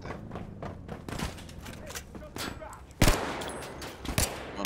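Gunfire rattles in bursts during a cooperative mission of the video game Battlefield V, with sharp shots and a heavy blast midway, under overlapping radio-style voices calling out orders.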